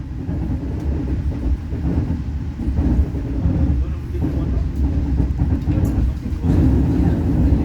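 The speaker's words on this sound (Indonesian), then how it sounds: "kereta api Argo Bromo Anggrek memasuki stasiun besar Pekalongan" Argo Bromo Anggrek passenger train rolling into Pekalongan's main station, a loud, steady low rumble of wheels and carriages that fills the whole stretch without a break.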